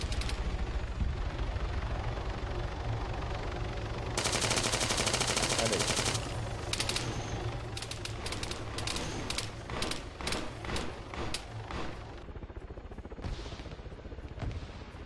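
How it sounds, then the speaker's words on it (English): Video game gunfire in Arma 3 rattles away in rapid bursts and single cracks, some loud and near, others more distant, with a faint voice underneath. "It's on the other side of the wall to the west of this building where that gunfire is."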